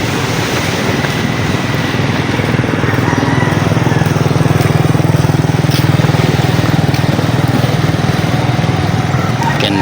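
A Yamaha motorcycle engine runs steadily and loud nearby outdoors, a constant droning hum with wind noise over it.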